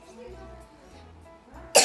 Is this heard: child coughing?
yes